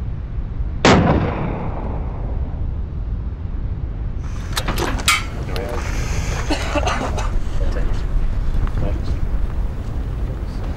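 A single sharp rifle shot cracks loudly near the start and fades in a rolling echo outdoors, followed by gusting wind noise and people talking.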